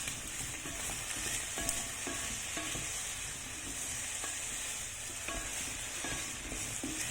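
A small spatula stirs potatoes in oil in a pan, giving a quiet, steady frying sizzle with soft repeated scraping and shuffling strokes throughout.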